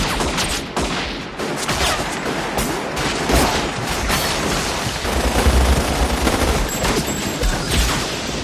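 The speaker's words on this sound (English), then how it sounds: "there is the theme of gangsters showing up, then just fucking shooting everybody in sight." Dense, continuous gunfire from gangsters shooting in a Takeshi Kitano film scene: rapid overlapping volleys and bursts crackle loudly for the whole stretch with no talk.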